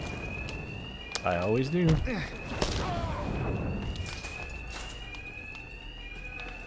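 Bank alarms in Batman Arkham Knight ring as a steady, high electronic tone through the whole stretch, with fighting thuds and someone speaking over it.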